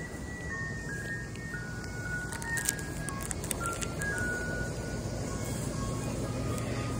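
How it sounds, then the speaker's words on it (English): An ice cream truck on a local street in summer plays its tinny jingle melody, faint and somewhat distant, under steady broadband outdoor noise with a few light clattering knocks partway through. "Just got a bomb pop from the ice cream truck."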